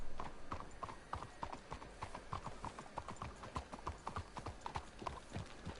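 Horses' hooves clip-clopping at a steady walking rhythm in Red Dead Redemption 2, close and clear, with an occasional snort and faint background sound.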